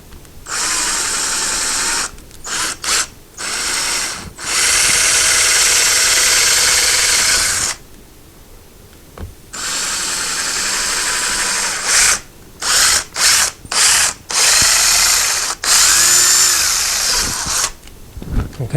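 A power drill bores screw holes for mounting a closet rod, in several loud whirring bursts of varying length separated by short pauses, close by.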